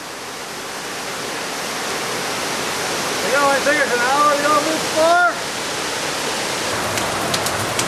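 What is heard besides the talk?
waterfall at Falling Water Falls, Tennessee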